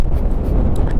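Strong wind on the Col du Galibier mountain pass roars and buffets the microphone of a Yamaha MT 125 rider, a loud, continuous low rumble with gusty swells and no talking.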